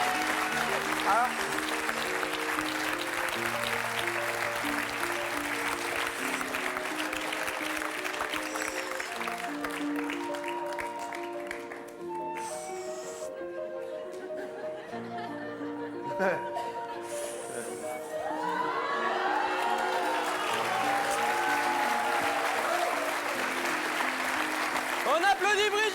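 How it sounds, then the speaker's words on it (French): Studio audience applause on a French TV game show, broad and sustained through most of the stretch, mixed with loud music and presenter talk, dipping briefly midway before swelling again. "On applaudit Brigitte."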